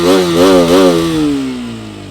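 A 2022 KTM RC 200 motorcycle with an underbelly exhaust revs up in a few quick throttle blips, then settles into a steady, slowly falling engine note, close and loud with no talking.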